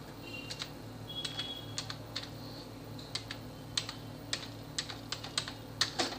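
Keys on a computer keyboard clack in irregular bursts of quick taps while someone types a title and reference details into MS Word, close and fairly quiet against a low steady room hum.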